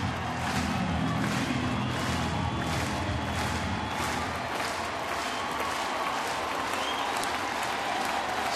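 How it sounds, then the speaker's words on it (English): A sellout baseball crowd at a Chicago White Sox at Detroit game stands and applauds, a loud, sustained wash of clapping and cheering filling the ballpark without break. "Sellout crowd on its feet."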